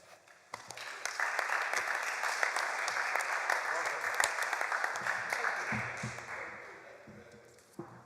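Audience at an exhibition event applauding the day's speakers, a steady wash of many hands clapping that swells quickly, holds for several seconds and then fades out.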